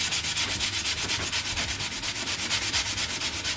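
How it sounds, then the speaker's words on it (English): Steady rhythmic sanding of metal prop ears, a rasping back-and-forth scrub repeated quickly and evenly, close up with no talking. "I've drilled the holes first just so I don't obscure them with any sanding"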